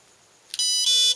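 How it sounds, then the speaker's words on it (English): A Scorpion speed controller sounds its two-tone confirmation through the motor: two short, clear, loud electronic beeps in quick succession, the second slightly longer, with near silence before them. "And then you get the two-tone confirmation to let you know that you've put the soft start feature on."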